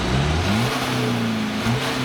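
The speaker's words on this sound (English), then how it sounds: "So this is how the BMW sounds." A BMW 320d diesel's exhaust revs loudly and continuously, the engine note rising and falling in a deep, throaty drone with no voices.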